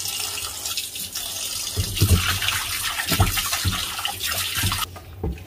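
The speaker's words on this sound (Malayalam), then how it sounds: "വീണ്ടും വെള്ളം ഒഴിച്ച് കഴുകാം." Sardines are washed with water in a clay pot: water pours and splashes unevenly, growing louder midway with sloshing bursts, then stops abruptly near the end, with no speech.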